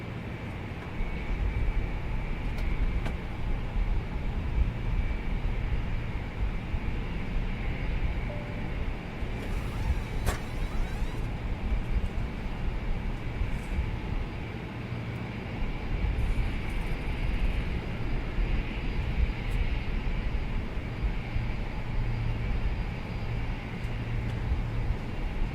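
Inside an Airbus A320neo cabin before departure in Iceland, a low steady hum of aircraft systems fills the space with faint clicks and rustles, continuous and unbroken, with no speech.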